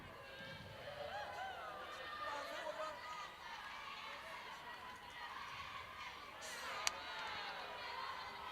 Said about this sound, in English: We can hear some school children shouting loudly near our box.